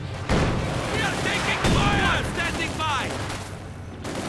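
Tank cannon and gunfire in Company of Heroes 2, a Soviet T-70 shooting at a German Flammpanzerwagen amid steady battle noise with booms and rattling shots, and a commentator talking over it throughout.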